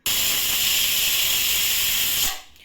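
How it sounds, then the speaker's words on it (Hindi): A pressure cooker whistle blasts a loud, sustained hiss of escaping steam while egg biryani cooks, cutting off abruptly near the end. "1 विसिल हो चुका है।"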